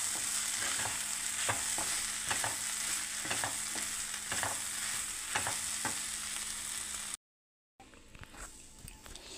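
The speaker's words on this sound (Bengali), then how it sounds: "আমার এখনও হচ্ছে বরবটি আলু ভাজাটা, অনেক টাইম লাগে বন্ধুরা" Long beans and potatoes fry in a pan with a continuous close sizzle, punctuated by the scrape and clack of stirring, before a brief gap and a quieter stretch.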